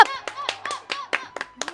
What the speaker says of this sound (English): The whole crowd went crazy for him.